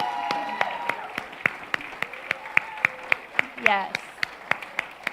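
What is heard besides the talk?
congregation applause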